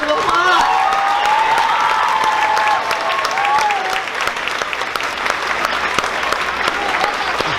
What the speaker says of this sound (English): Let's give Miss Gibbs' class a round of applause